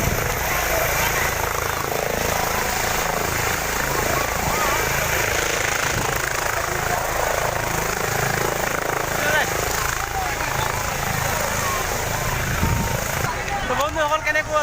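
A helicopter hovers low over a village field, whipping up dust, its loud steady rotor roar filling the whole stretch while voices of onlookers mix in underneath.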